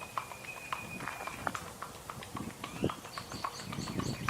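A gaited horse moves on a loose rein, its hooves beating a quick, fairly even rhythm that is close but faint, with some background noise and a brief whistle-like tone.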